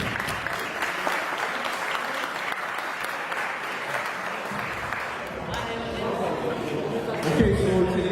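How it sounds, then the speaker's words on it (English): Audience applause at a Toronto community celebration honoring a Canadian team's Oromo soccer player, a dense steady wash of clapping for about seven seconds before it fades and a voice begins speaking near the end. "So let's give them another round of applause."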